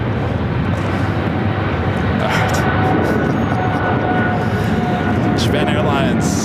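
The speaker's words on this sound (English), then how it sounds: "Japan Airlines 777 at 300 ER, taking off 25 right on the south side." A Japan Airlines Boeing 777-300ER takes off from runway 25 right at LAX, its engines a loud sustained roar that fills the whole stretch, with a steady broadband rumble throughout.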